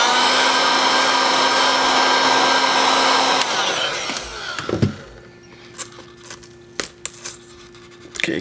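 A heat gun blows steadily on a MacBook Pro screen bezel, a loud continuous airy roar that cuts off partway through, followed by scattered handling clicks and taps.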